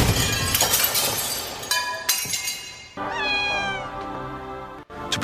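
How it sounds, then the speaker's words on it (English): Several cats meow in drawn-out, rising and falling cries, mixed with a sharp crash like breaking glass; the sounds are fairly close and clear, with no speech. "They're cats."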